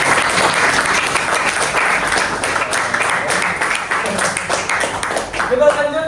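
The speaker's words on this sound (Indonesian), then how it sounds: "beri tepuk tangan dulu" Classroom audience applause during a university teaching session, a dense, continuous burst of clapping for about six seconds, fairly loud and close, tapering slightly near the end.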